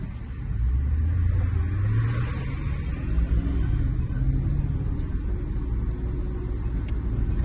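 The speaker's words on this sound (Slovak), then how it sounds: "tento 8-valec je jeden z posledných bez turba, čiže žiaden fejkový zvuk z reprákov, len čisté benzínové emócie" A 2011 Porsche Panamera 4S with a naturally aspirated petrol V8 rumbles steadily while driving, a continuous deep engine drone heard from inside at moderate level with no talking.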